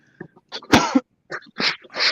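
A single loud sneeze close by, followed by a few short sniffs and throat noises in a quiet room.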